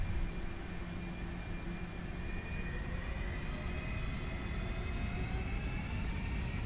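Jet engines of an A320 in a full-size flight simulator roar steadily at takeoff thrust, a broad continuous rumble with faint rising whine tones, loud and unbroken throughout with no talk.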